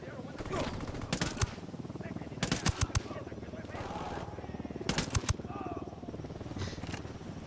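Gunfire in Ghost Recon Wildlands, sharp shots in small clustered bursts over a steady low engine-like rumble, fairly close and moderately loud.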